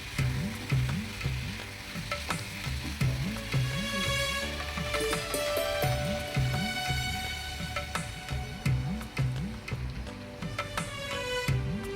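Pineapple pickle is being mixed and fried in a pan, giving a steady close sizzle with rhythmic scraping stir strokes repeating throughout, and no one talking.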